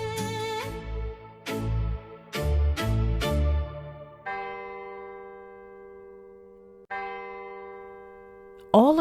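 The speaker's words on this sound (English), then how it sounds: "All across the city, church bells marked the hour" Church bells across Venice ring out the hour at dusk, several loud struck tolls with long ringing decay, followed by sustained resonant bell hums that linger and fade.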